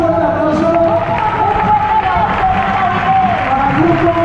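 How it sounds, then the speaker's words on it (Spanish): A loud crowd cheers and applauds steadily at a police intervention unit exhibition, voices and clapping blending into a sustained roar close by. "Pido un fuerte aplauso"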